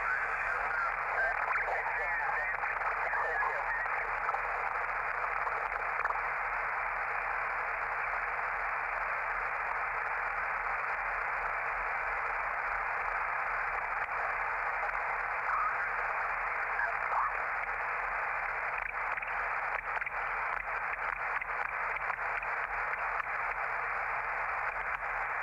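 Warbled single-sideband audio from an Elecraft K2 ham radio being tuned across signals, a steady band of hissy, garbled voice-range sound that drifts in and out of sync, faint and continuous.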